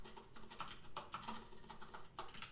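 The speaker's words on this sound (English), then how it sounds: "It's my lovely Poker 3 RGB mechanical keyboard you're hearing." Fingers typing on a Poker 3 RGB mechanical keyboard, a quick irregular run of clicky keystrokes, faint and close with no voices.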